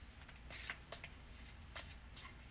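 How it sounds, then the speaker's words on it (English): Small tarot cards are shuffled in quick, faint riffling bursts, several brief papery flutters spaced through a quiet room. "These cards really like to be shuffled."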